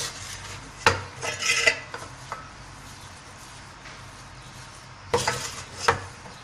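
Chana dal roasting in a pot for halwa, stirred with a metal spoon that scrapes and clinks against the pan in bursts over a steady faint sizzle.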